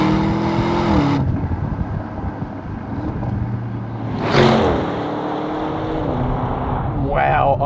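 An Audi RS6 Avant engine pulls hard through corners, a loud, rising in-car roar with gear changes and a sharp burst midway, while someone talks over it.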